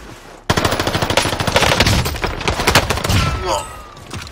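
Rapid bursts of automatic gunfire erupt in Call of Duty Warzone, loud and dense, with shots overlapping for several seconds before tapering off.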